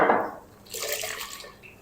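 A short splash of water hits a wok of frying garlic-ginger paste, followed by a bright hissing sizzle that rises and then fades over about a second.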